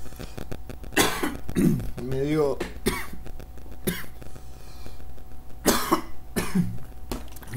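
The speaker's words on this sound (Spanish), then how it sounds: "Medio streaming tosiendo." A streamer coughing repeatedly during a livestream, several harsh bursts and throat-clearing spread across the stretch, with brief speech between them.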